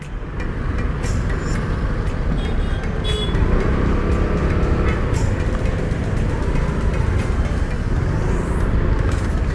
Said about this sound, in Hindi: ट्रैफिक बहुत है